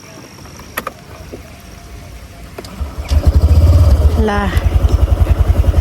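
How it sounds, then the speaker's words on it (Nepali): A scooter engine starts up and settles into a loud, pulsing idle and ride, close by, while people talk over it. "बहिनीको बाइक राइडरले स्कुटर चलाउँदै हुनुहुन्छ"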